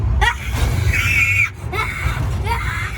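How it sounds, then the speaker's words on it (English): Screams of amusement park riders at Busch Gardens ring out in a few high, wavering bursts over a steady rumble of crowd and ride noise, with voices nearby. "Did you hear that scream?"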